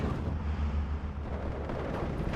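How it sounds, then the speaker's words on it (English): Artillery fire in the World War II strategy game Steel Division 2 rumbles in deep, overlapping booms that roll on without a break, heavy and fairly distant, with no talking. "Let's start using this artillery."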